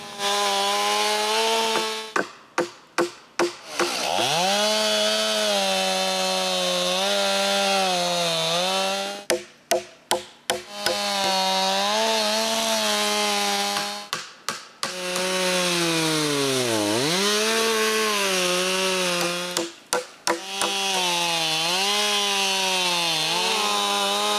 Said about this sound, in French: je peux visser le guide sur ma scie et couper d'autres 6x6.